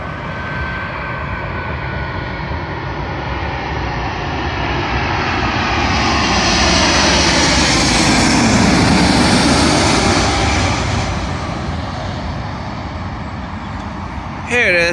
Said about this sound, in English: Arriving in now is another British Airways plane for another Boeing 777 from JFK to London